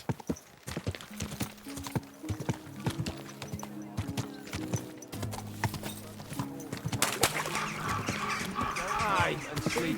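Horse hooves clip-clop at a steady walking rhythm in the Kingdom Come: Deliverance 2 video game, close and continuous beneath a voice and other in-game activity.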